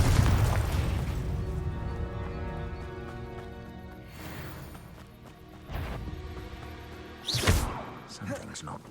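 A Confringo explosive spell in Hogwarts Legacy blasts out as several sharp booming crashes at intervals over a busy, humming game soundscape, with the final blast the loudest.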